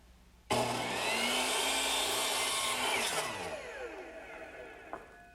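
A saw makes a test cut in wood for a kitchen worktable, one loud steady cutting burst of about two and a half seconds that winds down and fades over the last two seconds, with no voices.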